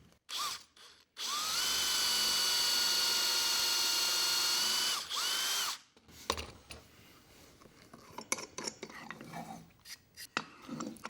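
A power drill whines at a steady high pitch for a few seconds while drilling a hole in wood with a Milescraft JointMaster jig, winds down, then tools clatter and clink lightly afterward.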